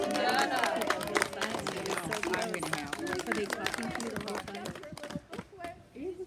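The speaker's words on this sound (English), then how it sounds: "Big round of applause for George." Applause for George at a brunch gathering, a moderate burst of clapping from a small crowd mixed with chatter and voices, fading out toward the end.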